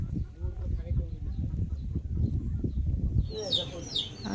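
Small chicks chirp inside a village house, bright high tweets near the end following a stretch of low talking voices.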